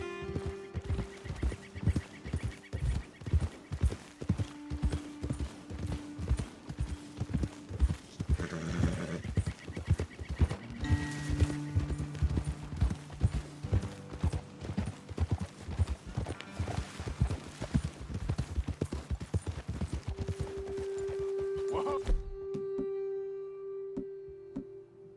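Horses' hooves clip-clop at a steady riding pace in the Red Dead Redemption 2 video game, with an occasional whinny and sustained musical tones underneath, the hoofbeats stopping near the end.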